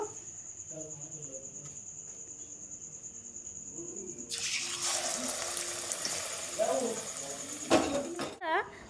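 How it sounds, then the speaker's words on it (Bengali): Cabbage-leaf rolls stuffed with prawn fry in oil, a soft background crackle that suddenly swells into a loud, close sizzle partway through, with a few brief clatters near the end. "আবারও আর একটা ভেজে নেবো"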